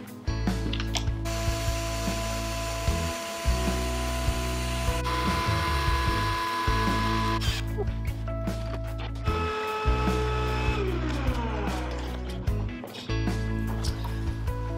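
Handheld wood router cutting a circle in wood stock, taking a final light shaving pass along the edge for a smooth cut; loud, sustained high-pitched whine with brief dips and restarts, no talking.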